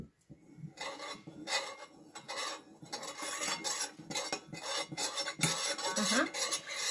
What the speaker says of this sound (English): And now you can stir it a little bit with the tablespoon.